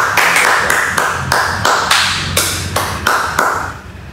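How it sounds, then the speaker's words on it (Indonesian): Rhythmic hand claps, about a dozen evenly spaced beats, loud and close, with no voices. "Sekali lagi tepuk tangan buat Bang Hendra."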